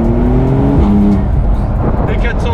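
A Porsche 992 Carrera 4S with its 450-horsepower flat-six, roof down, revs up and then drops back, with some tire noise and a voice speaking over the engine.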